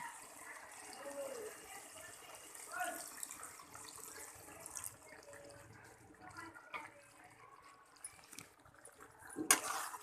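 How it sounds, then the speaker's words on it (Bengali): Water is poured into a pot of cooking sweet pumpkin and Malabar spinach (pui shak), a faint splashing and trickle under quiet kitchen noise with a sharper clatter near the end. "সেই জন্য সামান্য একটু জল দেবো।"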